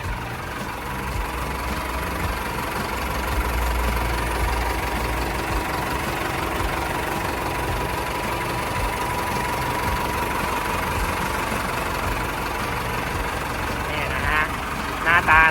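A Caterpillar 936E wheel loader's four-cylinder turbo diesel engine idles close by, a steady loud rumble with a faint rattling knock, holding constant throughout with a couple of sharper clanks near the end.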